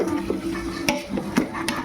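Garam masala being stirred into chicken biryani in a pot: a few scraping spoon strokes and light clinks against metal over a faint background sizzle, close by, without speech.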